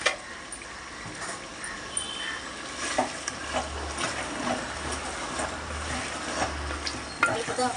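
Chicken curry being stirred in a pan with chili powder and spices: scraping, clattering stirs with a soft sizzle underneath, steady and close, with a few sharper knocks of the spoon.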